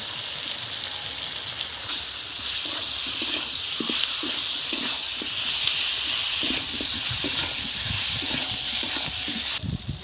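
Garlic and ginger fry in a hot pan as a base for a snakehead fish curry, a steady bright sizzle and hiss with scattered pops and crackles that runs close and loud throughout.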